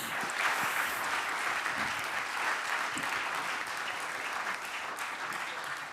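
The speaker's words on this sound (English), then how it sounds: "Give them a round of applause." A conference audience applauds in a sustained, even round of clapping, moderately distant and without voices.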